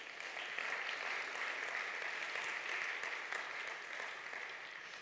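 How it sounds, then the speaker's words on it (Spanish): Applause from a church congregation during a worship service, a dense, even wash of many hands clapping that holds steady for several seconds, heard from a distance and fairly faint. "Dar un aplauso al Rey."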